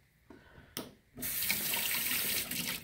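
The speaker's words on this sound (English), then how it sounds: "Rinse my glitter off my fingers." A kitchen or bathroom tap turns on after a couple of soft knocks and runs steadily, a close, hissing stream of water as glitter is rinsed off fingers.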